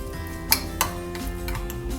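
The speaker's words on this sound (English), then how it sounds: "Just mix it properly." Spoon mixing garlic spread with chili flakes and salt, two distinct clinks of metal on the bowl early on over a steady low background, then soft stirring scrapes, close by and without speech.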